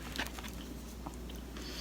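Someone bites and chews crisp, sweet hami melon, soft crunchy bites and wet chewing close by, faint over a steady low background hum.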